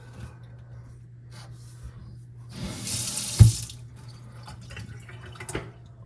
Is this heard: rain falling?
no